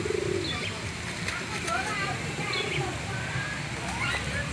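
Pigeons coo softly while they gather to be fed in an outdoor town square in Tulungagung, mixed with other faint bird calls under steady talk and crowd murmur.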